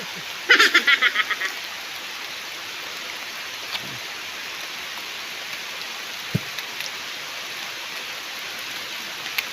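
Steady rain patters on a surface, a soft continuous hiss with scattered louder drops and a brief burst of clicking near the start.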